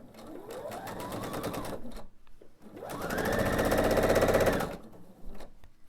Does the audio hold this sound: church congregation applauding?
no